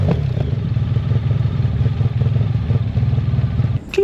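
A Honda VFR1200 V4 motorcycle engine with an aftermarket LeoVince exhaust rumbles with a deep, throaty idle and fast pulsing exhaust note, close and loud, cutting off briefly at the end.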